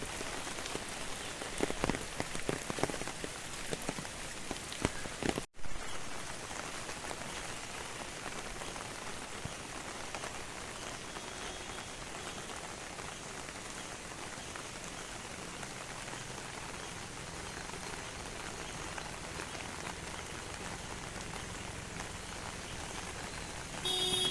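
Heavy monsoon rain falls during a river flood in Kumbhavade, Rajapur, in the Konkan, a dense, steady hiss of drops on surfaces lasting throughout at a moderate, even level.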